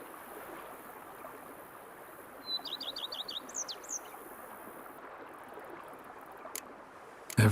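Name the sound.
birds chirping in The Witcher 3 video game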